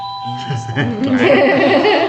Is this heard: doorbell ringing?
yes